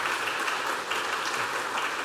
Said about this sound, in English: So please give them some applause.